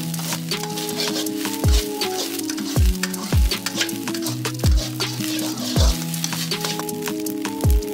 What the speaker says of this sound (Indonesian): dengan api sedang itu kita langsung goreng aja sampai dia kekeringan